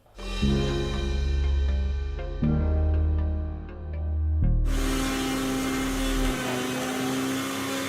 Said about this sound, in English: we are using a Dremel, an electrical engraver